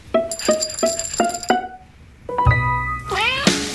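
A rhythmic series of short meows repeating five times, then after a pause a longer, more drawn-out meowing, close and clear.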